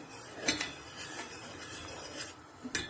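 A spoon stirs boiled sugar syrup with a lemon slice in a pot, giving a few quiet, scattered clinks against the metal over a soft background.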